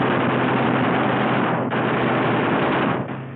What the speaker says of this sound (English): Cyclic rate of fire, 800 rounds a minute. You've got 8 guns, 106 bullets a second.